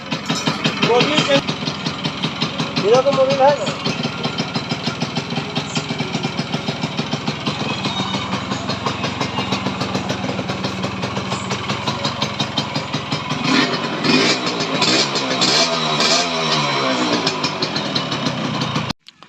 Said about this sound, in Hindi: पे दोस्तों हमने इंजन पूरा कंप्लीट करने के बाद इसे स्टार्ट किया।